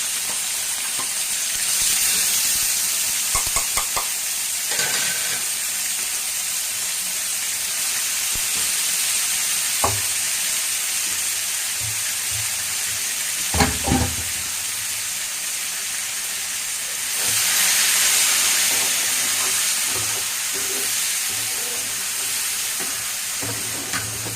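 Freshly ground masala for a sardine fish curry sautés in a pan with a loud, steady sizzle, broken by a few sharp clacks of a stirring spoon.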